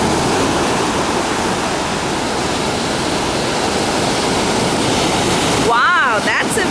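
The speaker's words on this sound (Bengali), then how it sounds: "যখনই স্রোত আসছে" Surf at a Los Angeles beach roars in a continuous close wash of breaking water and rushing foam, briefly interrupted near the end by a short voice.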